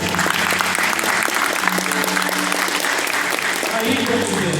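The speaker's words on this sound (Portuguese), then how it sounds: "Dá uma salva de palmas nessa palavra" A church congregation claps loudly and continuously in dense applause throughout, with some crowd voices mixed in.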